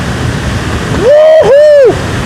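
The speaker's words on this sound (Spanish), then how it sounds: "¡Qué pasada de cascada esta!" A powerful waterfall roars in a loud, continuous rush of falling water, and a voice shouts an excited cry over the din partway through.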